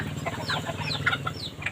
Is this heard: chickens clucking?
yes